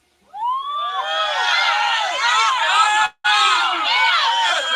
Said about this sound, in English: So a round of applause for you, a round of applause for me, everybody involved.